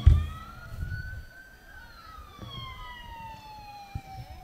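An ambulance siren wails in long, gliding tones, rising and falling steadily over faint road noise, fairly distant and moderately quiet.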